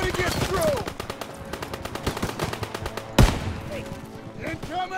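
Rapid machine-gun fire in the World War II shooter Call of Duty WWII, dense bursts of shots with one heavy blast near the middle, over battle noise.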